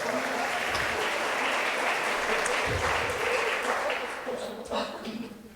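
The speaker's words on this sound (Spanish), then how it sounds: "Un aplauso para ella." Audience applause for a newly introduced economist at a church talk: steady, dense clapping from a crowd, sustained for several seconds before thinning out at the end.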